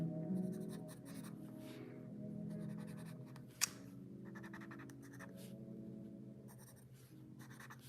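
A Sharpie marker scratches across paper in a product-design sketch, close and quiet, with rapid repeated strokes and short pauses, plus one sharp tap midway.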